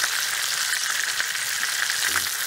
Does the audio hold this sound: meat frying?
yes